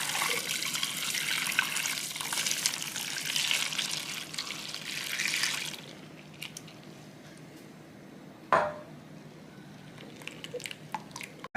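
Coconut milk, palm sugar and agar-agar mixture poured into an 8-inch tin, a steady liquid stream for about six seconds that then stops, followed by quieter faint handling sounds and one sharp knock.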